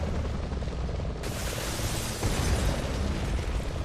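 Rocket launcher explosions in the Resident Evil 6 video game rumble loudly as a dense blast, with a second sharp burst about a second later, heavy low roar sustained throughout.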